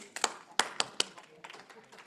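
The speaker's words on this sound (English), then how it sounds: "Okay, clap once." A group at a lobby-team theater workshop tries to clap once in unison, producing a faint, ragged cluster of separate claps and taps spread over about two seconds.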